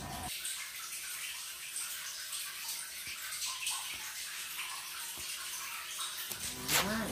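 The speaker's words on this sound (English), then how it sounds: "Now the water is draining." A Toshiba 7 kg fully automatic top-load washing machine drains its water in a steady, close rushing gush that runs unbroken for several seconds, then stops with a short clatter at the end.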